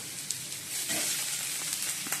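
Tomatoes frying together with onions in a pan give a soft, steady sizzle at moderate level. Faint stirring taps and scrapes come through now and then.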